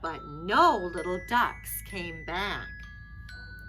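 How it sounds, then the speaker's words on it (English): A steady electronic alarm tone rings continuously beneath a person reading aloud, staying even in pitch throughout. "That's my alarm."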